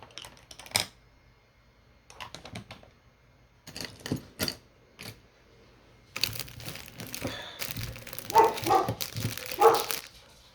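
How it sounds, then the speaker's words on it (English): Several dogs in a home, four of them, barking in short scattered bursts, loud and close, with quieter gaps between them and some rustling. "Sorry, my dogs are a little loud."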